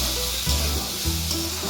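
Turmeric sizzles gently in oil in a pan while masoor dal is being prepared, a steady close fry with soft scraping as it is stirred, no voices.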